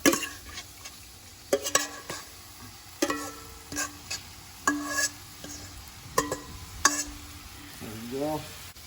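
Coconut ginger shrimp fry in a pan with a steady sizzle, broken by repeated clinks and scrapes of utensils on metal as the shrimp are stirred and turned. Faint speech comes briefly near the end.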